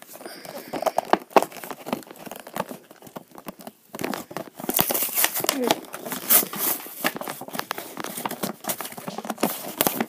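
Rustling, crinkling and tearing as the packaging of a Dark Spyro toy is opened, with irregular handling noises close by and people talking over it.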